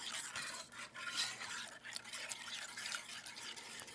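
A whisk stirs heating milk in a pot over low heat, making a faint, continuous swishing and light scraping with soft liquid sounds, quiet and close.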